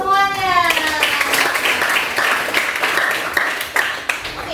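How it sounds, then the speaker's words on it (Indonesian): Children in a classroom clap together for everyone, a dense burst of quick, uneven applause that fills the room for several seconds, with a voice briefly heard over the opening. "tepuk tangan untuk semuanya."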